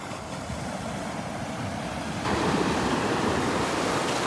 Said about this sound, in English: Listen to that music. The music of the waves.